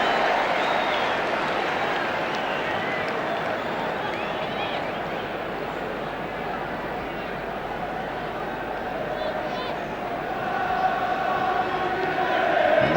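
Football stadium crowd during an England versus Brazil international friendly, a steady loud roar of cheering throughout, with a commentator talking over it.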